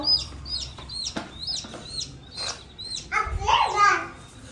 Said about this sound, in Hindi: लड्डू लड्डू आई चूजे लेके चूजे बंद क्यों कर रहे हो?